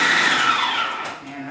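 A food processor runs continuously, dicing chipotle salsa ingredients with a loud, steady motor whir and chopping blades that ease slightly near the end.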